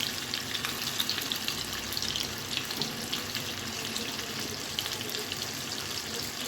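Onion and Bombay duck fish fry in a pan, giving a steady, dense sizzle with soft crackles that runs unbroken from start to finish.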